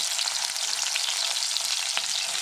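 Onions and green chilies sizzling in hot oil, a steady bright crackling fry heard up close with no voices.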